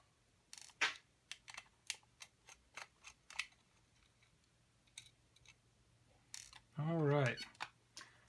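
Small screws are backed out of the rear shell of a Scuf Xbox One controller, a quiet series of sharp isolated clicks and ticks at irregular intervals, close up, with a brief hum near the end.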